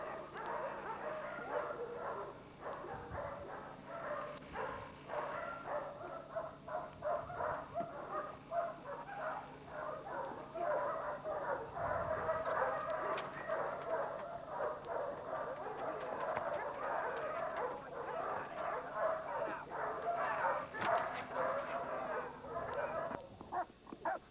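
A working dog at a 1985 training seminar in Newton, Kansas barks, yips and whimpers almost continuously, mixed with indistinct voices and crowd noise in a busy setting.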